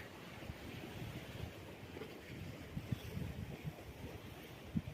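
Sea waves wash against the rocky Long Chao Kok coast in Macau under overcast skies after rain, a steady broadband roar with occasional low surges and some wind buffeting on the microphone.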